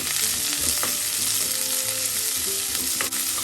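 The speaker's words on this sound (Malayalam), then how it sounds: "ഈ സമയം നമുക്ക് പാലക്കിൻ്റെ തണ്ട് ആദ്യം ഇട്ടൊന്ന് വഴറ്റാം." Chopped spinach stems are stir-fried in a pan, making a continuous close sizzle with light clinks and scrapes from stirring and no voices.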